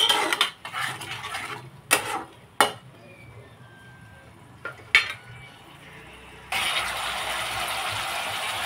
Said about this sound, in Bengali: এখন আমি মশলাটাকে আলুর সাথে ভালোভাবে কষিয়ে নেব।